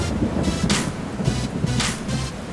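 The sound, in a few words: heavy rain pouring on a backpack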